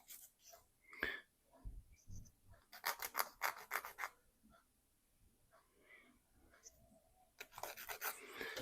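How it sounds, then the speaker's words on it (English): Plastic model kit part being sanded by hand, with several bursts of dry rasping strokes in quick rhythmic runs, moderately close and fairly quiet, separated by short pauses and small handling noises. "And sand her down."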